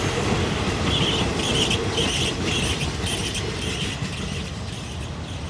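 Alsthom 4404 locomotive hauling train 261 from Thonburi to Hua Hin past a curve at Ban Po, a loud steady roar of wheels and wagons rumbling close by with faint squealing over it.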